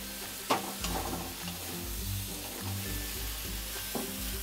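Mixed vegetables of cauliflower, capsicum, carrot, potato and green beans are stirred in a hot pan, with a continuous close sizzle broken by scraping strokes and a few sharper clinks of the spoon, and no talking.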